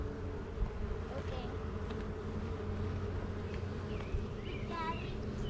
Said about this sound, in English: These bees are really healthy.